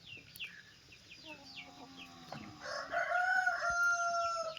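An F2 red junglefowl rooster crows, first a softer call, then a louder, longer crow near the end, with faint chirps from other birds in the background and no talk.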